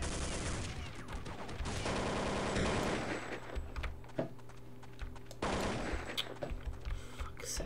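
Counter-Strike gunfire in a match: bursts of rapid shots open the clip, then scattered single cracks and short volleys follow, loud and close, with game noise underneath.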